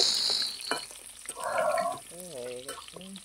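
Potato pieces fry in a little oil, a soft sizzling hiss underneath, while a voice talks and hums in the foreground, with occasional clinks and a brief watery splash early on.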